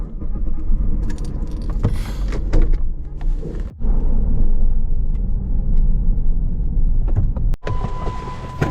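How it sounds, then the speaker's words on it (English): Keys jangle and a car door thunks before a car engine starts and settles into a loud, steady idle, with cabin clicks and handling noises up close. "get the car started"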